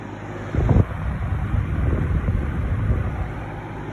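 A 1998 Weatherworks 20-inch box fan running on its medium setting, a steady broadband airy rush with low rumble, with a brief louder bump near the start.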